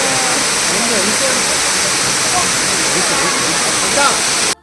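Abbi Falls in Madikeri running high with water, a loud, continuous close-up roar of cascading water that stays constant before cutting off abruptly at the end.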